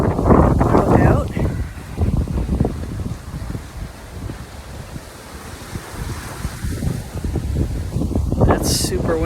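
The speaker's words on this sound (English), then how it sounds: "It's super windy out here today" Strong, gusty wind from the outer bands of a hurricane blows on a wooded trail, roaring and buffeting the microphone in heavy surges, loudest at the start and end.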